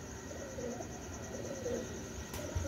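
Pigeons kept by a fancier coo softly and repeatedly in a quiet setting, a faint low throaty murmur with a brief click near the end.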